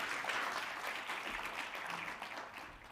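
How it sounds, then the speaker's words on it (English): Audience applause at a South African oil and gas national dialogue event, a steady wash of clapping from a seated crowd that fades slightly toward the end, no speech over it. "Please give him a round of applause."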